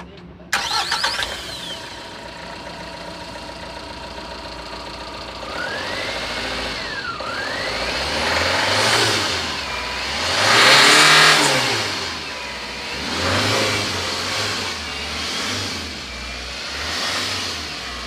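A Tata Intra V30 pickup truck engine starts with a sharp crank, settles into idle, then revs up and down in several swelling bursts, loud and close, with an occasional voice in the background.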